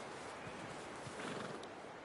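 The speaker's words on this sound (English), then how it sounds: "Let's go pet our horse first if it'll let us." A horse in the video game Red Dead Redemption 2 snorts and shifts with soft hoof clops, quiet and close against a low ambient game background, with no talk.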